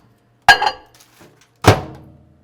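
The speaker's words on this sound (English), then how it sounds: "I'm going to go ahead and throw this in the microwave." A microwave oven door shuts with a solid thunk, then a second clunk follows a second later as the oven is set going for melting chocolate in a home kitchen. Both sounds are close and loud, with quiet between them.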